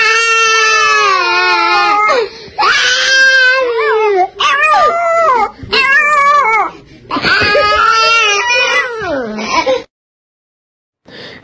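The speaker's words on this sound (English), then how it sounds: "a funny video of a cute baby getting assistance in crying" A baby cries in long, wailing bursts while a dog howls along in close, loud, pitched cries. The two overlap through several rising and falling phrases before stopping abruptly.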